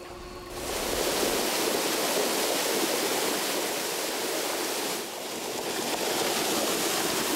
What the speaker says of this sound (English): Every day, 4 million gallons of clean water pours out of the treatment plant and into the Whitewood Creek.